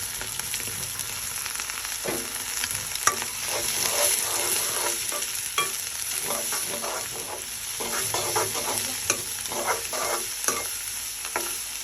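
Chopped carrot, onion leaves, cauliflower and tomato for fried rice are stir-fried in a pan, a constant sizzle under rapid, repeated spatula scrapes and clacks throughout.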